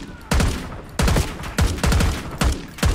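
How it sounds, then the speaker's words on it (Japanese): Gunfire from Call of Duty Black Ops 6 in loud, sharp bursts of several rapid shots, repeating roughly every half second to second over a low background. "銃声でかすぎんだろ。"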